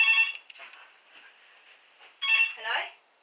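A telephone rings indoors in two short bursts of a bright electronic ringtone, with a pause between them and a brief voice sound right after the second.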